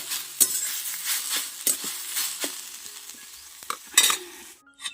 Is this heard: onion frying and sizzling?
yes